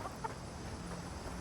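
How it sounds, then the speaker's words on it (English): Chickens in the video game Avowed give soft, brief clucks over a steady ambient game background. "Little chickens!"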